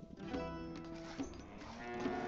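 Cows moo in Stronghold Definitive Edition, a few low drawn-out bellows layered over the game's steady ambient music, with no one talking.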